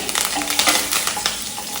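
Curry leaves, urad dal and chana dal sizzle in hot oil while tempering for a Karnataka-style bitter gourd palya, a close, dense crackle with small spatter bursts and faint utensil scrapes.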